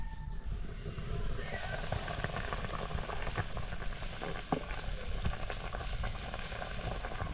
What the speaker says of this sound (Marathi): मस्त असा कड आलेला आहे बघा